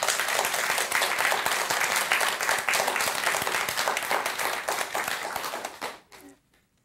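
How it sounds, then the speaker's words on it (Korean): An audience at a Buddhist lecture breaks into applause, a dense, loud wash of many hands clapping steadily that holds strong before tapering off and stopping abruptly near the end. "박수 한번 쳐주세요"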